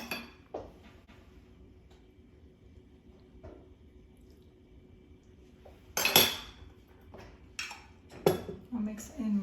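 Shrimp being mixed into a shrimp cocktail in a bowl, with soft wet stirring, scattered clinks of a utensil against the bowl and a few louder knocks, heard close alongside a person talking.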